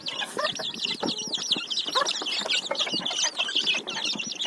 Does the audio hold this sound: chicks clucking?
yes